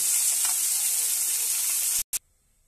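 Small chuno puti fish fry in a wok in a dense, steady sizzle up close that cuts off abruptly near the end, followed by a brief burst of sizzle and then quiet.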